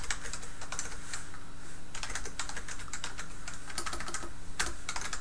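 Rapid typing on a computer keyboard at a desk, with a steady stream of close, crisp key clicks in an uneven rhythm over a constant low electrical hum from nearby computer hardware.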